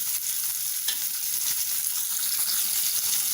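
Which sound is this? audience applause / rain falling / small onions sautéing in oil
small onions sautéing in oil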